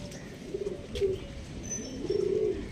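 Pigeons coo in low, throaty phrases, three or four soft calls close by over a quiet background.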